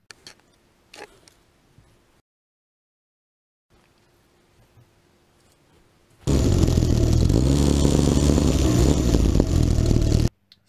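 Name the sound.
mini go-kart engine with chainsaw carburetor running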